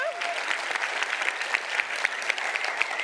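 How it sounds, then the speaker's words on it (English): Applause from an audience at a social innovation pitching competition, a steady moderate patter of many hands with some sharper claps standing out, faint voices underneath. "Your biggest applause for the pitches that we're going to have on stage today."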